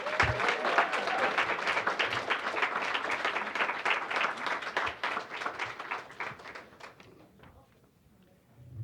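Moderately distant applause from an awards ceremony audience, a steady patter of many hands lasting several seconds before thinning out and fading.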